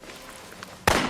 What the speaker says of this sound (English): She really likes to shoot Bryce